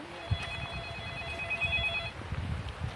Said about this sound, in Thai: ผมกดโทรศัพท์หาพี่กบอ่ะแม่งไม่ยอมไปเลยน่าจะ